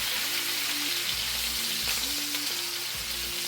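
Lemon breaded chicken frying in a pan, a steady close, dense sizzle with faint low tones underneath and no voice.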